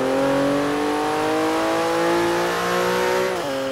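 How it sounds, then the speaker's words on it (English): A loud Porsche 911 Turbo S (991) 3.8-litre flat-six engine in Forza Horizon 3 holds a high, rising rev for several seconds, then drops abruptly near the end. "one of the most throatiest flat six engines that I've heard from a Porsche"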